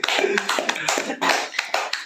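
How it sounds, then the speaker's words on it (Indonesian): A small audience claps at a talk show about football players, with a few distinct bursts of close hand claps and taps in an uneven rhythm. The claps sound sparse rather than like a large crowd. "Luar biasa, kita tepuk tangan."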